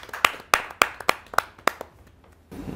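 A few people clap to welcome a poet at a Hindi poetry gathering: about seven sharp, evenly spaced claps that thin out and stop, with no cheering.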